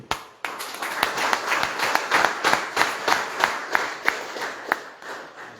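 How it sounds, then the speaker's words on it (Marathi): An audience at a business lecture bursts into sustained, dense applause, with sharp, close claps sounding steadily for several seconds. "इथं जोरदार टाळ्या वाजवा या कोपऱ्यासाठी आणि याच्यासाठी"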